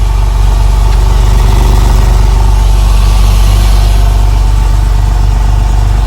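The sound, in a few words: Porsche 996 engine with hydraulic valve lifter noise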